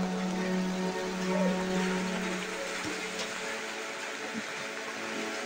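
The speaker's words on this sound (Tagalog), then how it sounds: "Sobrang lakas talaga ng ulan." Heavy rain pouring steadily during a provincial flood, a continuous hissing roar with a low engine-like hum fading out partway through.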